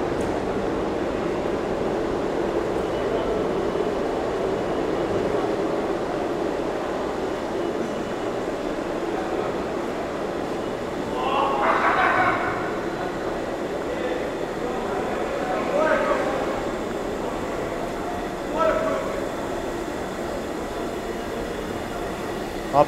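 Trains run at the NQRW subway platform in Times Square, New York City: a steady rumbling platform roar with a few brief rises of wheel and rail noise, under murmuring crowd voices.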